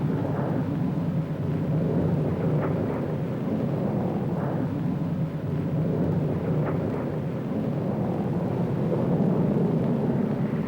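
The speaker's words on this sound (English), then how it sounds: "Representatives of the squadrons of great V bombers, a Victor, a Vulcan, and a Valiant." Deep, sustained jet roar rumbling continuously as V bombers, a Victor, a Vulcan and a Valiant, pass overhead, loud and steady with no voices.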